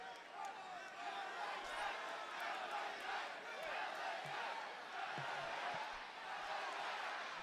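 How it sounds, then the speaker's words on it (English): A wrestling arena crowd in Southern California roars and chants in support of LA Knight, a dense, far-off wash of voices that swells and holds throughout, with a few sharp thuds under it. "you can hear here in Southern California, It's the crowd all rallying LA Knight"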